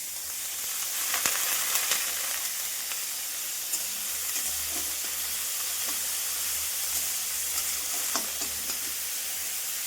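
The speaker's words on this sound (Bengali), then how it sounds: "এগুলো ভাজা হোক, তারপর ডিমটা ভেজে ভাতটা মিশিয়ে দিলেই হবে" Ingredients for egg fried rice sizzle in a pan, giving a steady, moderate hiss with occasional stirring clicks and scrapes and no voices.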